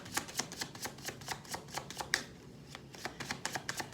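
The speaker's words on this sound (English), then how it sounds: "One more shuffle." Tarot cards are shuffled with rapid, crisp riffling clicks in quick bursts, close up, with a brief pause midway before the rhythm resumes.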